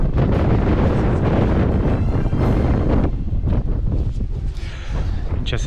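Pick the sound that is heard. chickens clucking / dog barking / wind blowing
wind blowing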